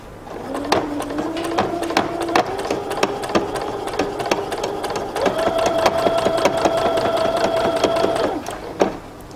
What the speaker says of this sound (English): I'm going to stitch it down